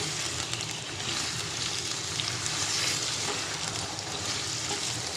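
Potato pieces fry in oil over a high flame with a steady, dense sizzle and crackle. The sound is close and continuous, with no talking.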